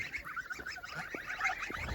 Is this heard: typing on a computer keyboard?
no